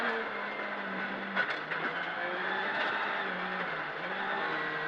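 A rally car engine hums steadily from inside the cabin as it drives on a road and brakes early into a corner, a continuous mid-loud drone with slight pitch shifts and no talking.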